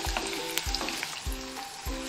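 Garlic sizzles steadily in hot oil for a cucumber curry, with a few soft stirring scrapes recurring about every half second over the continuous frying hiss. No one speaks.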